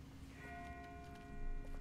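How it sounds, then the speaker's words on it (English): A distant bell tolls faintly within The Walking Dead video game, a single sustained ringing tone with fading overtones, quiet and far off against a low background hum. "That's not the same bell as before. This one's further off."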